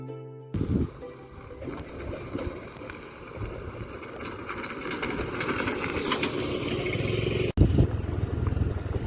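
A motorcycle engine runs steadily with a rising, rough drone and wind rush as it rides near Pali village toward Rajgad fort, loud and close throughout.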